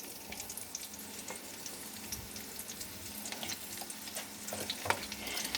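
Sliced onions and capsicum fry in hot oil for chilli soybean, giving a soft, steady sizzle with faint crackles and light stirring noises, close by and fairly quiet.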